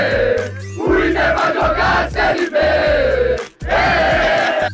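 A loud crowd of Grêmio football supporters at Parcão park chanting and shouting together, dense and continuous, with a brief dip before the roar resumes.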